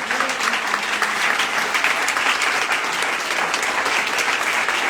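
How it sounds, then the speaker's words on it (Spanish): Congregation applauding the Lord during a church service, a dense, steady wash of many hands clapping that holds at an even, fairly loud level from start to finish with no voices over it. "Dele un fuerte aplauso al Señor."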